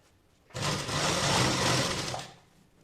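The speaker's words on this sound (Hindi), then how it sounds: "ये देखिए इस तरह से सिलाई देंगे। मेन फैब्रिक पे नहीं देनी है, हमें लाइनिंग पर सिलाई देनी है इस तरह से।" Sewing machine stitching piping onto the neck lining of a blouse, running in one steady, close burst of about two seconds that starts and stops abruptly.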